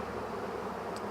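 A honeybee swarm settling into a hive box gives off a steady, continuous buzzing drone, close and even throughout, with no talking.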